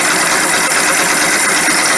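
A steady 1960 Cadillac V8 in a rat rod idles close by, a dense continuous rumble with a broad hiss on top and no pauses.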